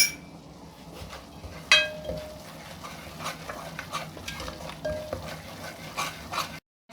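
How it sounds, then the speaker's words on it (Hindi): Semolina roasting in a pan for gur halwa, stirred with soft scraping and occasional clinks of a spoon against the metal, fairly quiet and close. "इधर मैं सूजी को भून रही हूँ"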